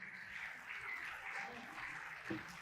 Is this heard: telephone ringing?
no